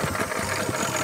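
A small garden tiller engine runs with a steady, close mechanical chugging and dense rattling drone. The level stays even with no pauses.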